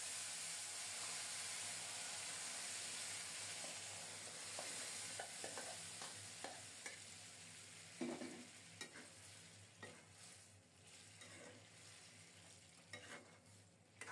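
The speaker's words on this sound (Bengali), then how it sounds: "ফোড়নটা রেডি হলে এখন শাক দিয়ে দেব।" Jute greens go into hot oil tempered with dried red chilies and whole cumin, giving a faint steady sizzle and crackle with scattered stirring clicks and scrapes from the pan.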